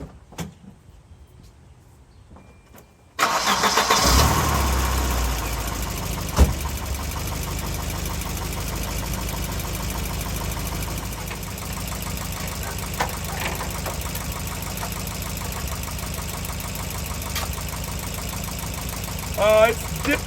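Quiet for a few seconds, then the engine of a 1992 Volvo 244 cranks and catches with a loud burst before settling into a steady, rumbling idle.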